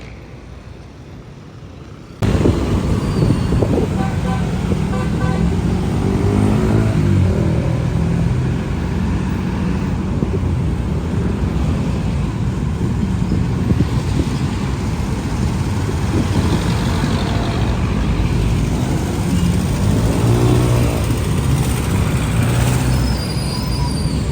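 Roadside traffic at a busy intersection near SM Taytay in Taytay, Rizal: cars and buses idle and pass close by in a continuous rumble, with occasional engine swells and air-brake hisses.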